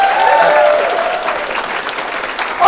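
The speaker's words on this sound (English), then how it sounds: "A round of applause for Alex Preston, as always." An audience at a live comedy show applauds, a dense, steady patter of clapping from many hands, with a faint tone at the start before the clapping carries on.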